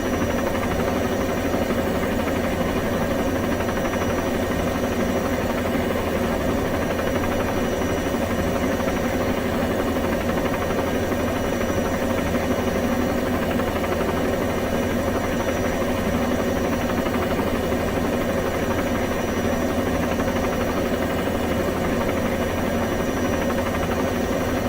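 Bell 206 helicopter engine and rotor in Microsoft Flight Simulator, holding a hover: a steady, loud, continuous mid-pitched drone with a throbbing rotor hum, unchanging throughout with no talking.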